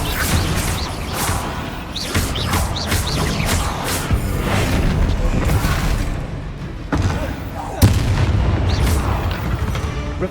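Bombarda blasting spell explosions in the Hogwarts Legacy video game, a dense stretch of deep booms and thuds over constant rumbling combat noise, with one sharp heavy blast near the end.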